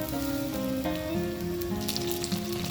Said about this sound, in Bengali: এবার আমি এই তেলের মধ্যে কিছু একটা গোটা পেঁয়াজ দিয়ে দেব করে এর মধ্যে আমি একটা টমেটো কুচি দিয়ে দিলাম